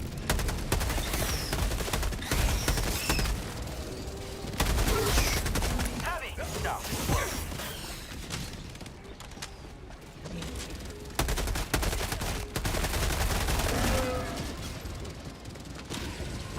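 Rapid gunfire in the Helldivers 2 video game on Helldive difficulty 9, with bursts of automatic shots against bugs. The fire comes in loud stretches broken by quieter gaps, with a voice talking over parts of it.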